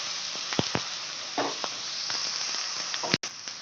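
Onion, ginger and garlic sizzle in a hot pan with a steady, close hiss, broken by a few soft clicks and stirring scrapes and one brief cut near the end.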